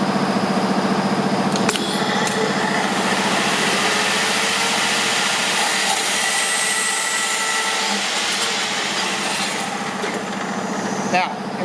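A Scotchman 14-inch semi-automatic variable speed cold saw cuts non-ferrous material at high blade speed, giving a steady, loud motor whine and cutting hum that holds evenly for the whole stretch, with a brief knock near the end.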